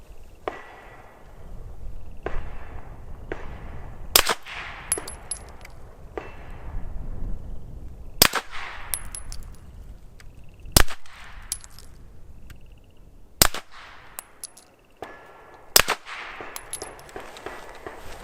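Shots from an M&P 2.0 Compact pistol fitted with a Blacklist Industries threaded barrel crack out as sharp, ringing reports, about eight in all, spaced unevenly over a low background hum.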